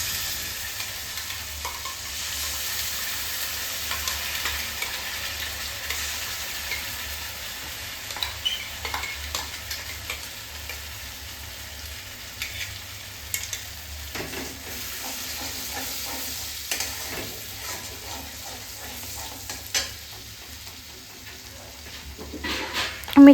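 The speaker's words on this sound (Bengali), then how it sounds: "এবার আমি ফোড়নে দিচ্ছি জিরে ফোড়ন। তারপরে আমি যেই মশলাটা রেডি করেছিলাম সেই মশলাটা এবার দিয়ে দিচ্ছি।" Cumin seeds tempering, then a blended spice paste added and frying in hot butter, with a steady crackling sizzle and occasional stirring scrapes throughout.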